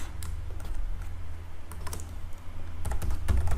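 Steady keyboard typing as C code is entered on a computer, a run of close, dense keystrokes with a low background hum and no talk.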